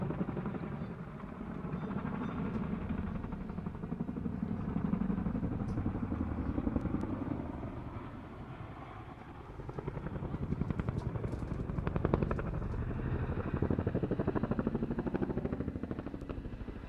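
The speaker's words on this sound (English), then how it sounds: "named after a Bosnian base where the Chinook used to demonstrate its power and ability to climb out of that area" A Chinook helicopter flies an airshow display, its heavy, throbbing rotor beat and engine roar sustained at moderate distance, swelling and fading slightly as it manoeuvres.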